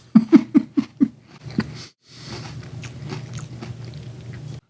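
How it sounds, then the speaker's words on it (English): Crunchy bites of Honey Nut Cheerios cereal, about six sharp crunches in quick succession close up, then a pause and a softer stretch of chewing with mouth noise. "I hope you're tasting this along with me as I have a bite here."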